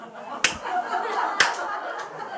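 Two sharp, loud hand claps in special-forces style, spaced about a second apart, followed by a fainter third, with low murmuring and a chuckle in the background of a church sermon hall.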